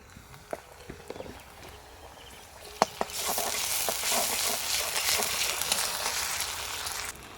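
Onions fry in a pan with ginger-garlic paste for aloo samosa filling: a few sharp clinks and taps, then a dense, close sizzle that rises suddenly and holds steadily until it drops off at the end.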